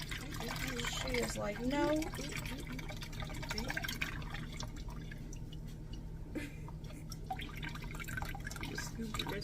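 Homemade kombucha trickles and drips as it is poured through a spoon, a light liquid splashing under people chatting nearby.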